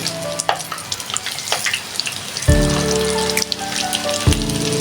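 Chicken wings are dropped one at a time into hot oil, which bursts into a loud, steady sizzle halfway through over faint background crackling, with a second surge of bubbling near the end.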